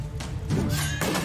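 A horse whinnies in Age of Empires II during the Joan of Arc campaign, a short loud neigh with a few thuds of movement mixed in, heard alone without talk.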